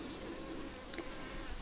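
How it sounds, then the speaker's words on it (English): A blue-banded bee buzzes steadily around begonia flowers in a courtyard garden in early winter, a faint continuous drone that lasts throughout with no talking. "That's the blue-banded bee buzzing around the begonia."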